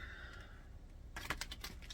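A large, new, sticky deck of cards being shuffled up close, with quiet riffling followed by a burst of crisp, rapid card flicks and snaps toward the end.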